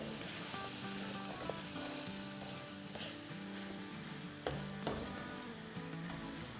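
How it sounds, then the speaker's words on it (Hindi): Red onions and green onion tops sautéing in a pan for chicken chow mein for a large picnic batch, a steady close sizzle with occasional clinks of a utensil, no talking. "और इसको सौटे करेंगे"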